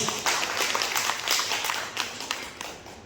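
A hall audience at a direct-selling motivational talk claps, dense clattering applause with quick taps, fairly close and sustained before fading slightly.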